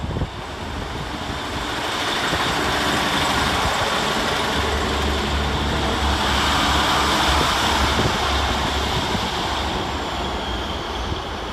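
Transport for Wales unit 152.58 pulls out of Cardiff Queen Street station on the Bargoed to Penarth service, a steady broad rumble and roar that holds loud and near for the whole stretch, with no talk.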